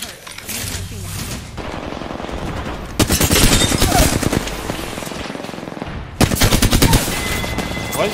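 Gunfire in the shooter Apex Legends: sustained automatic bursts ring out loudly, with two especially sharp, dense volleys standing out, and a player's voice talks along underneath.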